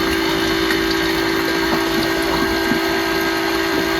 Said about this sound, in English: Here's the oil coming out of the generator.